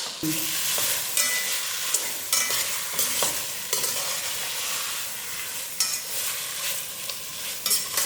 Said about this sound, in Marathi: आता ही कोळंबी आपल्याला या मसाल्यासोबत दोन मिनटासाठी हलक्या हाताने चांगली परतून घ्यायची